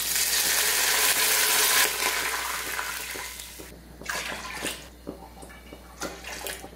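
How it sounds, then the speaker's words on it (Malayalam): A rush of water pouring steadily into a cooking pot for chicken biryani, loud at first then easing into lighter splashes and trickles, with no talking. "ആ സെയിം കപ്പിൽ തന്നെ വെള്ളം അളന്നിട്ട് ഒഴിച്ചു കൊടുക്കാം"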